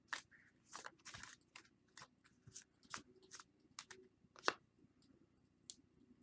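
Tarot cards being shuffled by hand, a run of crisp riffling and flicking bursts with short pauses between, close and fairly quiet with no talking.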